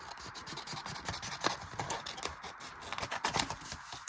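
Scissors cutting a strip off a paper junk journal tag, a close, continuous scratchy snipping and rubbing with little pause, fairly quiet and without any talking.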